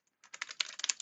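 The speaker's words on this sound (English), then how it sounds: "sorry, my typing here is not great. This is not my normal keyboard." Quick bursts of clicks from a computer keyboard, an unfamiliar one, typed close up after a brief silence, with irregular keystrokes packed into about a second and no talking.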